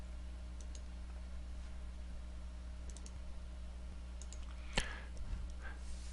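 A computer mouse clicks OK in Visual C++, giving a few faint, sparse clicks over a quiet electrical hum, with one sharper click standing out.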